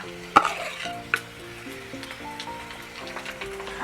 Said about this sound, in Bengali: আদা রসুন আর পেঁয়াজের সঙ্গে ভালো করে একটু কষিয়ে নিতে হবে